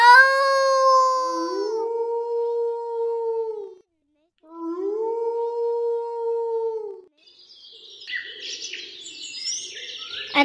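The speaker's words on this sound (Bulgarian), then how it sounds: "А как прави вълка?" Wolf howling in two long, clear, sustained howls with a smooth falling pitch, separated by a brief silence, followed by bright bird chirping.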